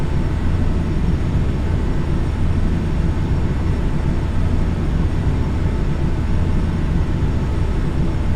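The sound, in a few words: Bombardier CRJ700 jet engines climbing, from video game Flight Simulator X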